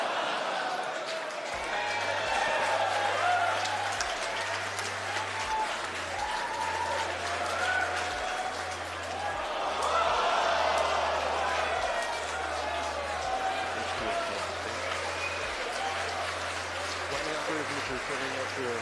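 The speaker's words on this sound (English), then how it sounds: "You may have heard the SpaceX team cheering in the background." The SpaceX team cheering and applauding during a Falcon 9 rocket launch, a sustained roar of clapping and whoops from a large crowd, steady throughout, with a low rhythmic pulsing underneath and speech mixed in.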